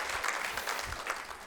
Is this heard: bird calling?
no